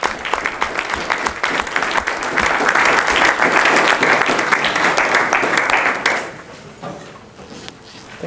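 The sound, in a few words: audience applause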